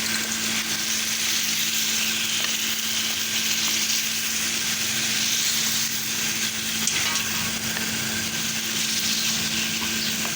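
Jalfrezi curry being fried in a pan, a loud, continuous sizzling hiss that holds steady throughout without a break, no speech.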